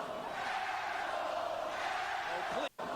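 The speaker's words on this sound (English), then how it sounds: "Wait a minute, listen to this crowd." A roaring arena crowd from WWE 2K18's Universe Mode keeps up a constant wash of cheering under a commentator's voice. The noise cuts out for a brief moment near the end.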